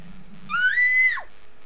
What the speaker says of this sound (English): Where does that scream come from?